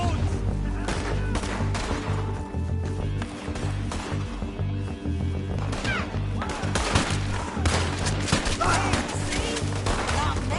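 Dense gunfire in the Red Dead Redemption 2 video game, with rapid overlapping shots over a busy battle mix and voices talking through it.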